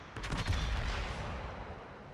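The Richelieu battleship fires its main guns in World of Warships, a rapid salvo of booming blasts followed by a long rumbling decay.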